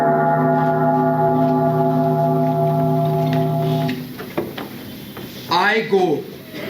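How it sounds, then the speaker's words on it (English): A bell rings out as a knell sound effect in a school stage play, one long sustained toll that fades out, followed by a voice speaking loudly on stage. "Hear it not, Duncan, the bell invites me. It is a knell that summons thee to heaven or hell"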